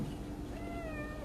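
A small cat gives a single faint, thin meow over a low steady background hum, quiet and close.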